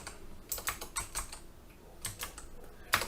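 Someone types on a computer keyboard, producing short bursts of quick, close clicking keystrokes with a pause in the middle and one sharper key hit near the end.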